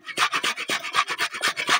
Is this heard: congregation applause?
no